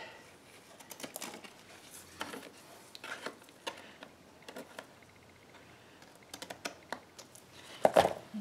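Designer series paper being trimmed on a paper trimmer for a Stampin' Up! card: scattered light clicks, taps and soft rustling at close range, ending with a sharper, louder click.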